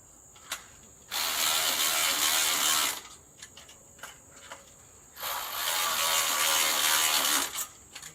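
A ratchet cranks down the mounting clamp for an automatic coop door opener, two sustained bursts of rapid clicking close up, separated by a few scattered single clicks and brief quiet.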